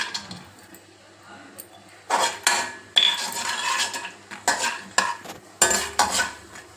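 Peanuts frying in hot oil in a kadai on a stove, heard as bursts of crackling and scraping stirring with metal clatter against the pan, loud and close in uneven clusters after a quieter start.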